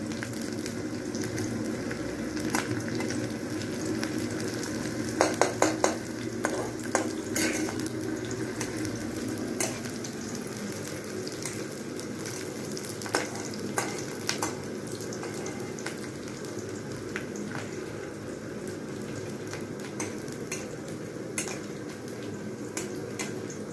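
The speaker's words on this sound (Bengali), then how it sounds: "এদিকে একটু ভাজি কড়া কড়া করে একটু ভেজে নিই।" Food sizzles and crackles steadily in a pan, with occasional sharper pops and the clink of a utensil stirring.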